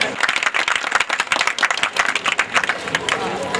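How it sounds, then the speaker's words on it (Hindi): An audience at a Rabi ul Awal ceremony bursts into lively applause, many sharp claps packed close together and loud throughout, with a few voices mixed in. "आपकी तालियाँ बताएँ।"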